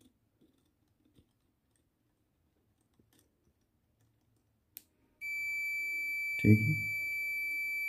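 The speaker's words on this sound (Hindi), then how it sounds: "बीपिंग साउंड देना शुरू कर दिया।" A multimeter on continuity mode starts a steady, loud, high electronic beep partway through while a rheostat is adjusted, after near silence with a few faint clicks; a voice briefly speaks under the tone.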